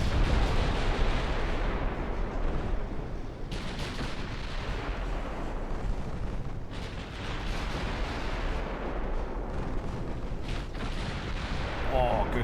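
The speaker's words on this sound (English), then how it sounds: "8s are firing as well now." Naval gunfire in a warship video game, with a continuous dense roar of heavy cannon blasts and rumbling explosions that swell and dip across the whole stretch.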